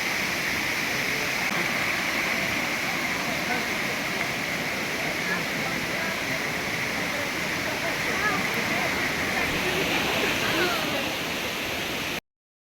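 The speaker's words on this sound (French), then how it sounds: "Ah oui, une vraie cascade semi-sauvage." Semi-wild hot spring waterfall with warm water, a steady close rush and roar filling the whole stretch before cutting off abruptly.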